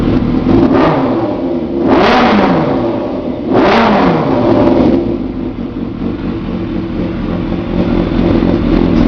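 Yamaha YZF sport motorcycle fitted with a D&D exhaust, revved hard while standing: a steady loud idle broken by two sharp throttle blips that climb and fall, close to the microphone, no talking.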